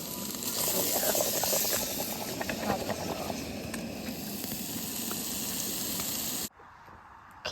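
Kielbasa sausage sizzles over a campfire while backcountry camping in Algonquin Park, a loud, steady broadband hiss that runs unbroken for several seconds, then cuts off abruptly to near quiet.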